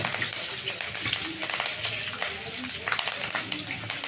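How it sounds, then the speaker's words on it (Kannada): Curry leaves hit hot oil for a fish curry and sizzle hard, a loud, dense crackling frying sound that carries on steadily with small pops and stirring clinks. "ಕರಿಬೇವು ಹಾಕ್ತಾ ಇದ್ದೀನಿ."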